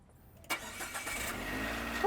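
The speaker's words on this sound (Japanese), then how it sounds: "今予備のバッテリーでエンジンはかかってる" A Nissan Clipper kei van engine, run off a spare battery because the old one is worn out, cranks briefly and catches, then settles into a steady close idle running on alone.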